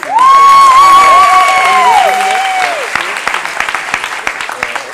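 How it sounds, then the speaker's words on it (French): A festival improv show audience claps and cheers for a performer named Élise. Applause and whoops start loud over a voice holding a sung or shouted tone for about three seconds, then settle into thinner scattered clapping. "Élise, un tonnerre d'applaudissements."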